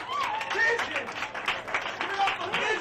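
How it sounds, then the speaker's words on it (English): A small comedy-show audience claps briefly for a first-time comedian, scattered hand claps mixed with a voice talking over them in a short, lively burst. "clap your hands for James Haley"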